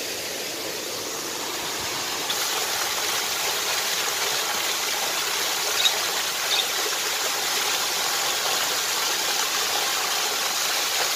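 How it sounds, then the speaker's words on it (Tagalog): A man-made waterfall in the Singapore Botanic Garden pours with a continuous broad rushing roar, steady and moderately loud throughout, with no talk. "Yan po ay man-made waterfalls from Singapore."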